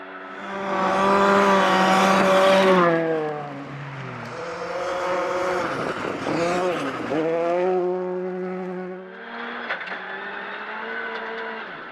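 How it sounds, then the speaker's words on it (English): Rally car engine revving hard through gear changes as the car slides on the road, loud and close, rising and falling in pitch with a brief drop in revs before a steady final pull. "Car started to slide."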